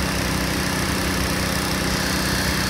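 An air blower runs steadily during an air cushion recovery, giving a loud, continuous engine-like roar with no pauses.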